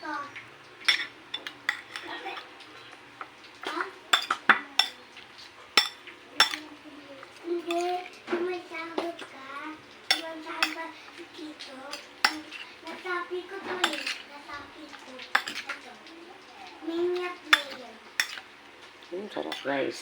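A spoon stirs kilawin dilis, a Filipino raw anchovy dish with salt and lots of chili, in a dish, giving quiet scraping and sharp clinks of metal on the dish amid close conversational voices.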